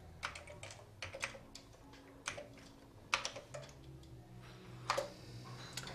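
Keys clack on a Commodore 64 keyboard as a file name is typed, a quiet run of separate taps in uneven bursts, some louder than others.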